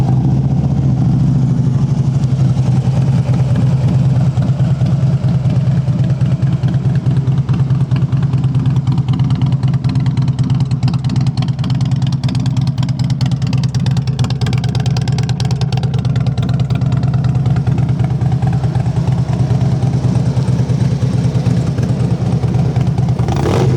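A Harley-Davidson Street Glide FLHX, a factory-loaded model with ABS, sits at idle with a steady, deep, loud engine rumble that holds constant throughout without revving.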